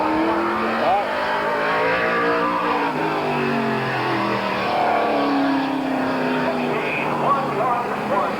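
Race cars roaring around the oval at Canton Motor Speedway in 1988, a continuous loud engine drone with shifting pitch as cars circle, under a track announcer's voice throughout.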